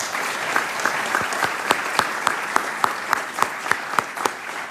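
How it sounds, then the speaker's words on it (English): A room of people clapping for apprenticeship graduates at an event, a moderate spread of claps with a few sharp, evenly spaced louder claps standing out near the front. "just for a moment so we can give you a round of applause"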